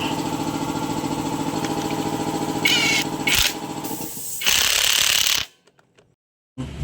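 A Rusi Euro 110 motorcycle engine idles close by after a kick-starter repair, with a steady mechanical clatter and whirr. A few brief revs and bursts follow, then it cuts off abruptly before starting again briefly.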